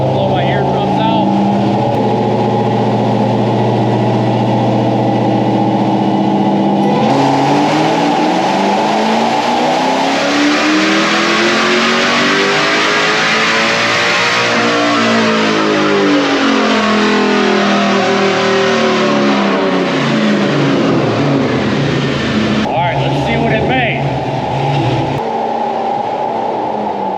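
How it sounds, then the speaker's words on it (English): A built-motor Jeep Trackhawk with a new exhaust revs hard on a dyno, with a long loud pull that climbs and falls over about twenty seconds between idling stretches, while people talk. "God, that new exhaust sounds good."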